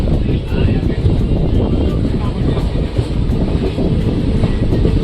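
A passenger train running between Jetpur and Bhurikhiya near Khakhariya station gives a continuous, loud low rumble and clatter heard from on board, with a voice talking over it.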